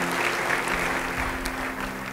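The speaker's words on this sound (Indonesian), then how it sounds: "Yang percaya beri tepuk tangan bagi dia" Steady applause rises from a church congregation during a sermon, a dense continuous patter of many hands held at an even level, with a low sustained hum running beneath it.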